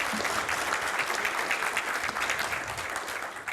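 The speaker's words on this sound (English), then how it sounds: "With a round of applause" An audience applauds to welcome a speaker onto a stage, steady dense clapping from many hands that carries on evenly throughout, with no voices over it.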